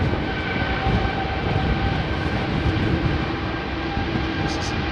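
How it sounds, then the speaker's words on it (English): A Boeing 787-8 Dreamliner with Rolls-Royce engines roars at London Heathrow on a windy day, producing a steady, broad, loud engine rumble that fills the whole stretch without a break. "Dreamliner."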